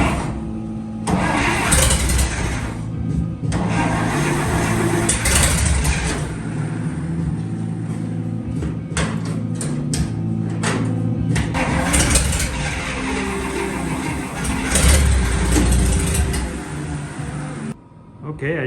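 The engine of a 1941 Dodge half-ton short-bed pickup that sat for 39 years cranks and fires, then runs and idles roughly, loud and close, with a brief cut near the end.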